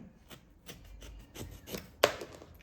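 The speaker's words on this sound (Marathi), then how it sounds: "आता मी कापून घेते तर आंबा आहे तो कापून घेते" A knife cuts through a large, washed raw mango for pickle, giving scraping, rasping strokes with a sharper crack of the blade near the end, close and fairly quiet.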